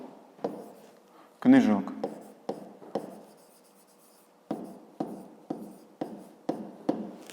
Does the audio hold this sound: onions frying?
no